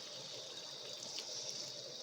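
Water is poured into a simmering pan of cluster-bean and tomato curry, a steady soft trickle lasting about two seconds with no talking.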